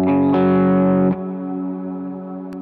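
An electric guitar played through an RV5 modulated reverb pedal rings out a bright chord that swells and is restruck, then fades into a long, shimmering, wavering reverb tail that sustains to the end.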